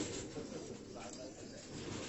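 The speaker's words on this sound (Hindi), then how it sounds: "ये हाजी साहब के बड़े पसंदीदा कबूतर हैं रानी वालों के नाम से" Rani wale pigeons coo on a Karachi rooftop, soft low cooing heard close over a faint background with some murmuring voices.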